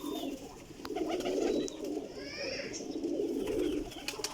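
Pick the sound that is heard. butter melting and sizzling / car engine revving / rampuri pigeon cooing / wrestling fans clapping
rampuri pigeon cooing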